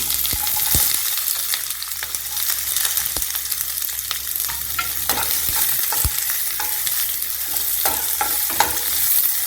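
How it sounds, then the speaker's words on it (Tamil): Onions sizzle steadily in hot oil while a utensil scrapes and taps the pan now and then, close up with no talking. "ஒரு டேபிள் ஸ்பூன் மறுபடியும் எண்ணெய் ஊற்றிக்கலாம் எதுவும் தாளிக்க வேண்டாம் வெங்காயம் போட்டுக்கலாம்"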